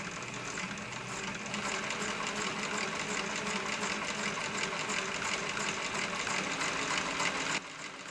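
An Elna 9000 computer sewing machine, freshly serviced and adjusted, runs steadily as it sews straight and zigzag stitches, a continuous close mechanical whir with a fast chattering rhythm that drops slightly just before the end.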